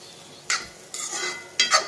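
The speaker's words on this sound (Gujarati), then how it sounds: "હમણાં વઘાર દઉં ઓકે વઘારી બધા રોટલી વઘારી દીધી છે" A few quick stirring scrapes of a spoon against a pan over a soft sizzle as leftover flatbread is stir-fried in tempering oil, in short bursts separated by quieter pauses.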